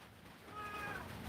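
A pet cat lets out a single short meow indoors, faint and close, over a quiet background hum.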